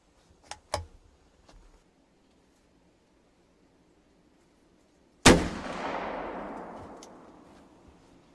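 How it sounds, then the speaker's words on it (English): A muzzleloader fires a Hornady Boredriver bullet at a 100-yard range: one sharp, loud close gunshot with a long rolling echo trailing off, preceded by a few faint clicks and handling noises. "This will be shot number 2 on those Hornady Boredrivers at 100 yards."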